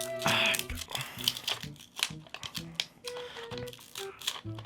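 Close crinkling and tearing of stiff plastic packaging holding batteries, in irregular bursts of crackles and snaps.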